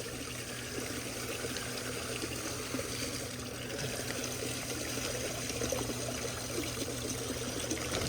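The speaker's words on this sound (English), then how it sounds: "Let me get some of this water out." Water is poured out of a container holding a fish, a steady, soft trickling stream that runs on without a break and stays at a moderate, even level throughout.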